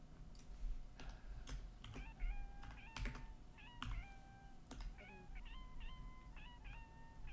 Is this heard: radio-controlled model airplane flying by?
no